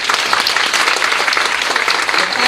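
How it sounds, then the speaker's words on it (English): Audience applause fills a symposium hall, a dense, steady wash of clapping from many hands that carries loud and unbroken for the whole stretch, with no talking over it. "Give yourself a round of applause today."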